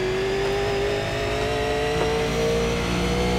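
A Super Late Model race car engine in iRacing holds a steady, loud mid-pitched drone at high revs, with a constant whine running through it.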